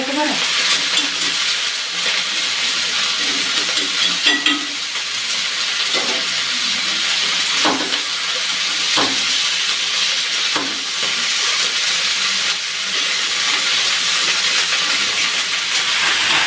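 A vegetable dish cooks in a pan with a constant hissing sizzle and steam, broken by occasional sharp stirring taps and scrapes.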